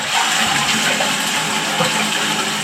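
A toilet flushing with a steady rushing gush of water through the pipe, loud and close, filling the whole short span without pause.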